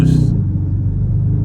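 A 2022 Dodge Charger Hellcat engine rumbles loudly and steadily from inside the car under a speed boost, a deep continuous drone with a brief hiss at the start.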